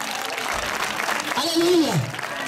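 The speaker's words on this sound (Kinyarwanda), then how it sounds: "Abakobwa bari hano mukomere Yesu amashyi." A church gathering's audience applauding, continuous clapping under a speaker's raised voice calling out over the crowd.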